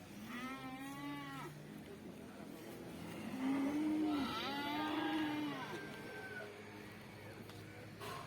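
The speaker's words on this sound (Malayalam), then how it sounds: "ഇവിടെ 2 നല്ല സൈസ് കാളമാർ നിൽപ്പുണ്ട്." Cattle and bulls at a busy livestock market low and moo in long drawn-out calls, several overlapping at moderate distance over a constant crowd-and-traffic murmur, with no clear talk.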